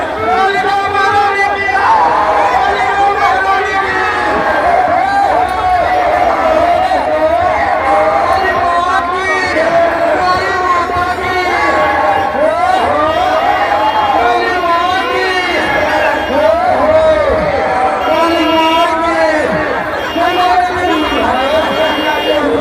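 A large crowd of devotees gathered at an idol immersion, filling the air with dense, continuous chatter and occasional shouts and whoops throughout.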